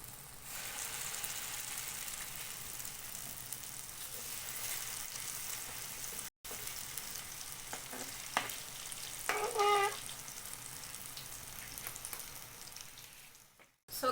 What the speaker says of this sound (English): I'm just going to place my potato pancakes in the oil on medium low heat